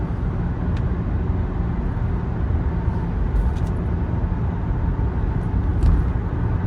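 Interior of a 1995 Mercedes-Benz E300 Diesel cruising at 55 mph, a steady low engine and road rumble with tire noise, constant and even throughout, no one speaking.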